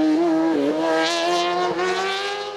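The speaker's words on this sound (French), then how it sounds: "Nicolas Poulet, lui aussi au volant du Nosella à moteur BMW 3 litres, termine deuxième de la classe" A Nosella race car with a 3-litre BMW engine screams at high revs at a hillclimb, pitch climbing through gear changes, loud and close, with no talking.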